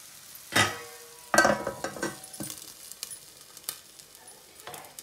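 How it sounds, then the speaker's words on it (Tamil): Sizzling and spitting of banana dough fritters frying in hot oil, with sharp bursts as pieces hit the pan and a few light clinks, close up. "இந்த ஆவியிலையும் இந்த விட்ட சொட்டு எண்ணெயிலும் அவிஞ்சு பொரிக்கும்."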